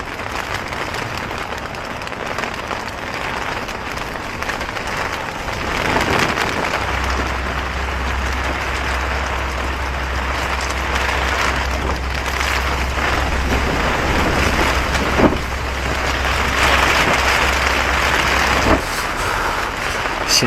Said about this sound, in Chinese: 外面在刮狂风。